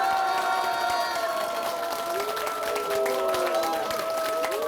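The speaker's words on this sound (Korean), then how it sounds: "여기 한번 떠나갈 때도 커다란 박수 함성을 한번 부탁드려요." A village audience at an invited lecture claps and shouts in unison, a loud sustained mix of applause and rising cheers that holds steady from start to finish.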